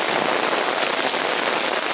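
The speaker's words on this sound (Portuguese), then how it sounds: "Chuva, chove aqui sem parar." Rain falls steadily in the Pedrinhas neighbourhood of Sobral, a close, continuous crackling patter on surfaces, bright and even for the whole stretch with no voices.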